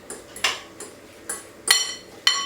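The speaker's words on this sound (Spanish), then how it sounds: "Y mezclamos todos los ingredientes." Ingredients being mixed in a bowl with a utensil, giving a few separate clinking, scraping strokes spaced irregularly, close and moderately quiet, with no talking.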